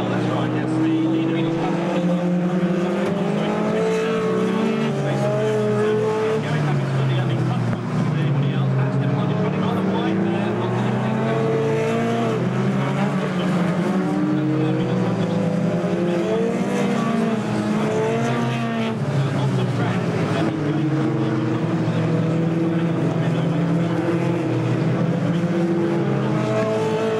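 British Touring Car Championship cars race at Silverstone in the 1999 final round, a continuous loud engine drone with rising and falling revs as they pass, under a commentator's constant excited talk.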